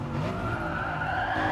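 A race car slides in an oversteer skid in Gran Turismo Sport, with sustained tire squeal layered over a steady engine drone, loud and continuous throughout.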